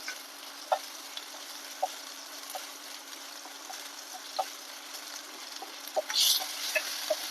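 Ginger-garlic paste and chopped chillies frying in oil, a faint steady sizzle broken by sharp scraping stirs, close and quiet.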